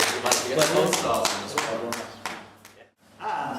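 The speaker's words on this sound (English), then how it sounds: "Give them a little round of applause for that" An audience gives a short round of applause at a quiz night, with loud, dense clapping that thins out and stops, then picks up again briefly at the end.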